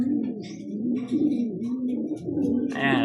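Racing pigeons arriving at a loft in Moncada, Tarlac coo nearby in soft low rolling calls, with a brief higher flutter or chirp near the end and no talk.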